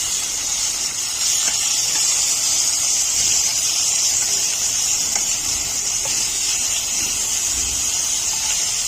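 Potatoes fry in a pan with a steady, continuous sizzling hiss that stays even and fairly loud from start to finish, with no voices.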